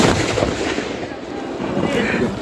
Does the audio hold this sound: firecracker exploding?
yes